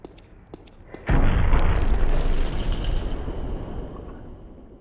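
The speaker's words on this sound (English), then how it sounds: "Be careful when blowing up walls with dynamite though, you can never be sure when they'll explode." In an adventure video game, dynamite blows up a wall: a few faint ticks, then a sudden loud, deep blast that rumbles on for several seconds as debris settles.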